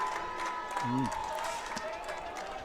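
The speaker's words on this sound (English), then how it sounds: "Draws the applause of the crowd" Crowd applause at a field hockey match, the 2023 International Melbourne Hockey Cup Tier 1 final, after a Melbourne penalty corner: a steady wash of clapping and crowd noise beneath a commentator's voice, with one brief tonal voice or whistle-like sound.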